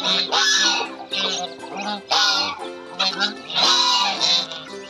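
Close, repeated honking and quacking from a backyard group of geese and ducks, calls overlapping in bursts with brief gaps between them.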